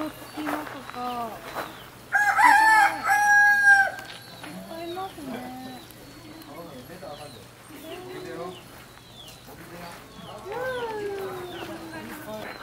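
Free-roaming chickens and chicks at Isonokami Shrine in Nara: a rooster crows loudly and nearby hens cluck and chicks peep on and off, while people talk throughout.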